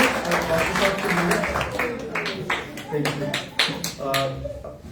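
An audience claps loudly at a New Year church meeting, dense continuous applause that swells and fades, with speech running over it.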